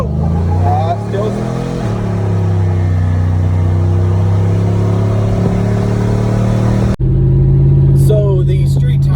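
A Chevrolet Silverado fitted with an MSD 2-step launch control is held on the brakes and revved for a launch: a loud, close engine drone holds a steady limited note, then it cuts sharply and returns harsher near the end, with someone talking over it.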